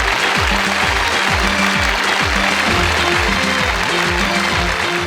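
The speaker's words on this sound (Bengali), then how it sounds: "চলে আসুন, আপনারা মঞ্চে চলে আসুন, তাদের জন্য করতালি" A dense wash of audience clapping fills a televised variety show stage as quiz winners are called up, loud and steady throughout, with a low rhythmic thumping running beneath.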